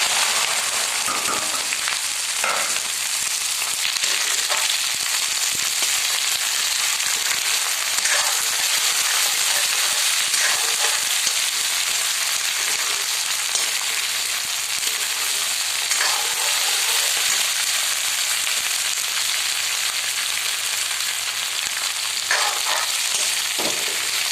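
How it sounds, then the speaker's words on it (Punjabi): Long strips of chopped okra frying in a pan of hot oil with roasted cumin seeds, a loud, steady sizzle and crackle that lasts throughout with occasional stirring, and no talking. "ਲਓ ਜੀ ਜੀਰਾ ਆਪਾਂ ਭੁੱਜ ਗਿਆ ਆਪਣਾ ਹੁਣ ਪਾ ਦੇਣੀ ਜੀ ਆਪਾਂ ਕੱਟੀ ਹੋਈ ਲੰਬੀ ਲੰਬੀ ਭਿੰਡੀ"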